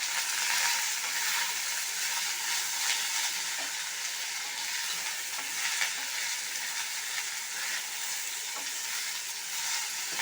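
Chana dal, ginger, garlic and curry leaves fry in a pan with a steady bright sizzle, soft stirring scrapes now and then over the continuous hiss; no voices.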